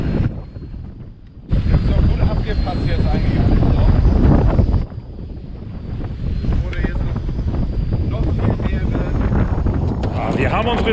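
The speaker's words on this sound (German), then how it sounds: "Wird immer mehr der Wind, ne?" Gusty wind blows loudly across open water off Kiel during mackerel fishing, swelling and easing in heavy buffeting waves, with a voice talking underneath.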